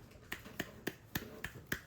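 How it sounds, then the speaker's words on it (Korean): A small child claps hands during noodle sensory play at home: six quick, evenly spaced, sharp claps, quiet and close, with nothing else behind them. "박수"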